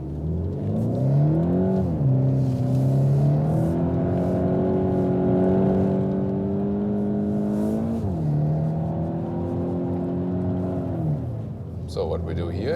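A VW T-Roc R engine drones and revs while the car drives on an ice circle, its pitch rising and falling with throttle changes, steady and close from inside the car, with someone talking over it.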